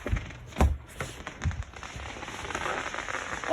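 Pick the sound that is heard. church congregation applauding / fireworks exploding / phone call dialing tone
fireworks exploding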